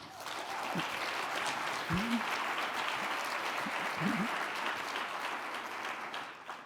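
Steady audience applause at a gathering of America's mayors, a dense wash of clapping that holds at an even level throughout with a few faint voices underneath.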